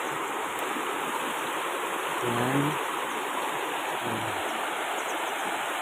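A waterfall at a mountain picnic spot pours in a steady, loud, dense rush of falling water close by, with a person briefly speaking over it.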